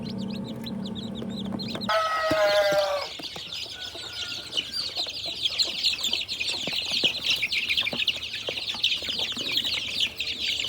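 Rhode Island native chickens cluck and chatter steadily in a backyard flock, a close, busy mix of calls with a louder burst near the start and constant overlapping clucking after that.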